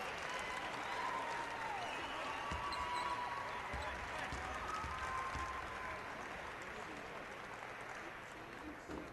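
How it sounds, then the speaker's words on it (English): Basketball fans in a high school gym applaud during a boys state tournament third-place game, a broad crowd roar and clapping heard from a distance, with a few squeaking shoes and a commentator talking over it. "Ross Thornton, and Connor Erickson, to big applause from the Blue Valley North fans."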